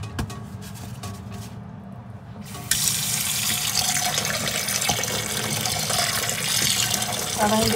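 Running tap water splashes steadily over cooked sago being rinsed in cold water, quieter at first and then louder and fuller after a brief lull, with no voices.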